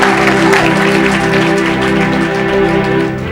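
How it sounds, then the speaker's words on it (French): A church congregation claps loudly and steadily throughout, a dense continuous applause with a crowd murmur and sustained musical tones beneath. "Acclamons le Seigneur pour lui."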